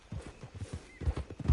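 Horse hooves clip-clop in a video game, a steady rhythm of soft, close hoof beats over about a second and a half, growing slightly heavier toward the end.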